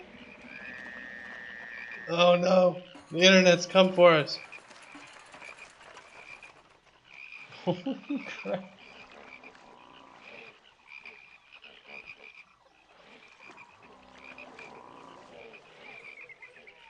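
A plague of frogs in the Pharaoh city-building game, a dense bed of croaking and chirring that runs steadily throughout, with someone talking excitedly over it early on.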